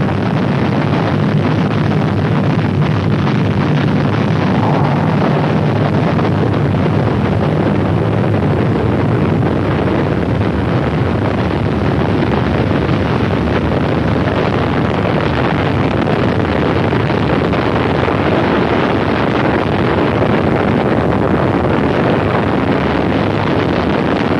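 A Saturn IB rocket launches Apollo 7 in 1968 with a loud, unbroken, wind-like roar that fills the whole stretch without letting up.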